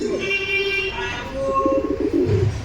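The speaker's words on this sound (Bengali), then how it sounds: "এখনই এই পেয়ারটা ছাড়া হলো দেখুন পেয়ারটা ডাক দিচ্ছে" A freshly released pair of Giribaj high-flying pigeons coos nearby in soft, throaty, repeated calls, with faint background noise around them.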